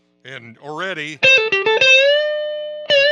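Electric guitar played through a custom Hiwatt 40 amp set right at the edge of breakup, with a chord struck, a quick run of plucked notes and a sustained ringing tone, after a few spoken words.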